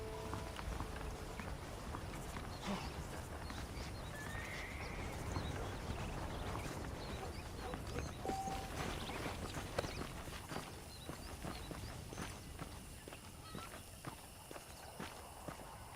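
Saddled horses in Red Dead Redemption, a faint, steady patter of hoof clops on dirt over a soft wash of ambient noise.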